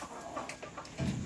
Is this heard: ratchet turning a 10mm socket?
no